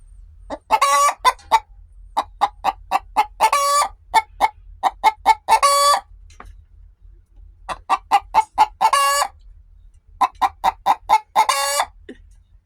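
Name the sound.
chicken clucking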